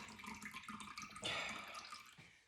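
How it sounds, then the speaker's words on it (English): Homemade buttermilk, left over from churning butter in a Thermomix, pours steadily into a container with a continuous liquid splash, getting a little louder toward the end. Nothing else is heard. "I'm just going to pour a little bit more of that buttermilk out."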